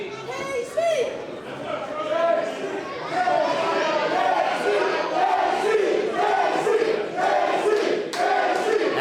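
Live wrestling event crowd at an independent promotion title match, a dense, continuous roar of chanting and shouting voices filling the hall, with a few sharp thuds and a loud spike near the end.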